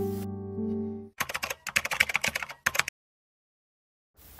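A tightened embroidery hoop, fabric pulled taut, is handled and tapped. A sustained resonant ring is followed by a quick run of dry clicks and taps, then a pause.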